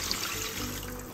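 Water pours steadily into a cooking pot of mung beans with bony pork pieces, a soft continuous splashing trickle at low level for about a second.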